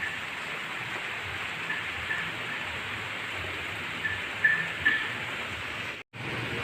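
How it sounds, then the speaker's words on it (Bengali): Heavy afternoon rain pours down steadily in a wintry outdoor setting as a constant, even hiss of moderate loudness, with a few brief louder bursts near the end and a momentary cutout just before it finishes. "এখন কিন্তু বেশ জোরে, বেশ ভালোই জোরে বৃষ্টি পড়ছে"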